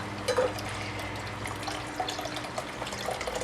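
Fruit wine is poured into a bowl through a cheesecloth-lined strainer, making a soft, continuous trickling splash. A few small, brighter drips and plops are heard near the start and toward the end.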